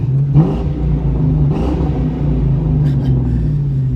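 A 2001 Ford Mustang GT V8 with a Flowmaster exhaust idles with a loud, throaty exhaust rumble, swelling briefly in revs a couple of times, close by.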